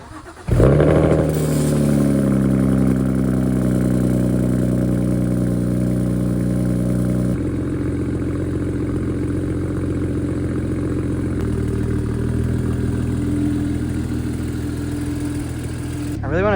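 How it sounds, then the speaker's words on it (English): A BMW 335is engine cranks and fires up from cold, then settles into a steady, loud idle with a slight shift in tone partway through. "We'll get a cold start on this too right now and see how it sounds."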